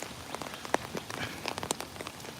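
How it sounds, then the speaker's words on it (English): Rain pattering onto open water outdoors in a quiet, lush setting, with scattered distinct drops and splashes over a steady soft hiss; moderately close, no voices. "Look at the rain hitting the water."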